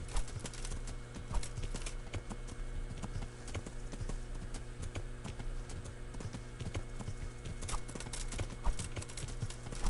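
Horse hooves clip-clop at a steady riding gait in the medieval game Kingdom Come Deliverance, rhythmic and close, with occasional faint whinnies.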